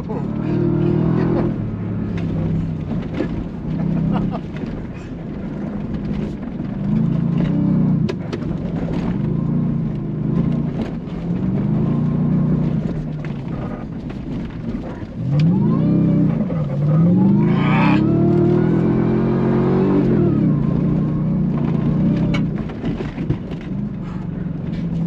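A 2024 Ford F-150 Raptor R truck engine revs repeatedly, deep rising and falling bursts with loud accelerating swells, close and aggressive, under occasional excited exclamations.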